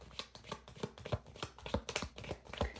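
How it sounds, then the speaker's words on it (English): A deck of cards is riffled and shuffled quickly and close up, making a rapid run of crisp flutters and taps in an irregular rhythm. "I'm just going to give it one more quick shuffle"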